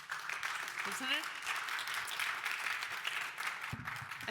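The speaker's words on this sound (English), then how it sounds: "I think you hear applause probably from people who are here from outside of Canada" An audience at a Latin American business breakfast claps in steady, even applause that lasts throughout at moderate distance, with a voice briefly heard over it.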